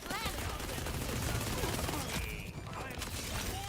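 Rapid SMG gunfire in the Borderlands 4 video game, dense continuous bursts filling the clip at steady loudness, with game effects and a voice partly mixed in.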